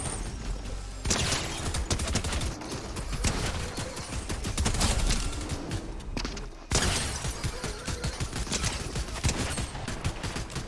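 Rapid shotgun blasts and SMG bursts from a Fortnite Zero Build match in Chapter 4 Season 4, dense overlapping gunfire with impacts, one abrupt cut near the middle, loud and continuous.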